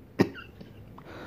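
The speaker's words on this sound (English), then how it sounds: "Started with a cough, a really bad cough." One sharp, harsh cough from a person with a bad cough, close and loud, followed by faint breathing and small throat sounds.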